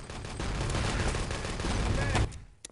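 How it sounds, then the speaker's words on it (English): Steady SMG fire and explosions in a 6v6 Enemy Territory tournament match, a continuous dense rattle at moderate volume that cuts off near the end, with faint voices underneath. "Lots of Oxid spam and SMG fire is going to come out."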